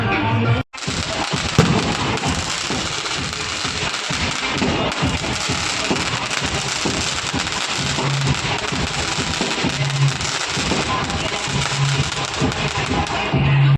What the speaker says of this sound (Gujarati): હવે ફટાકડા ફોડવાનું ચાલુ થાય છે